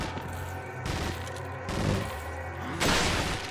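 Rapid gunfire from the video game Resident Evil 4, dense loud bursts of shots and booms in close succession with a sharper blast near the end, no talk over it.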